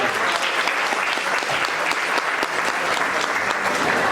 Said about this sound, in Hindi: 7th लेवल की जोरदार तालियां प्रीति दीदी